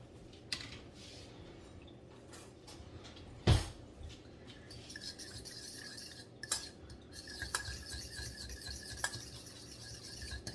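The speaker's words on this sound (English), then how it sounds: "So I'm just gonna go give those a nice little stir." A utensil scrapes and clinks around a bowl while stirring the wet ingredients for pumpkin dog treats, quiet, close scratching with occasional sharp knocks against the dish, and no one speaking.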